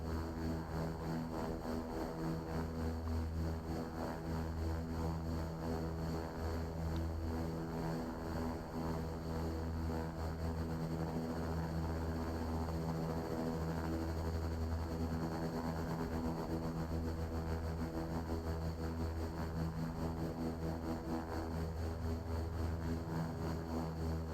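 A Super King Air 350 turboprop taxiing in X-Plane 11 at Aspen Pitkin County airport, giving a steady, loud propeller and engine drone with a constant tonal hum throughout, with no talk.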